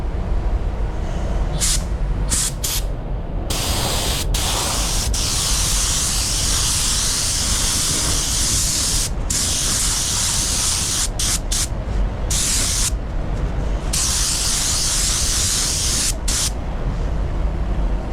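A spray gun lays clear lacquer onto a Tesla Model X lid, a loud steady hiss of atomized spray broken by short pauses as the trigger is released and pressed again.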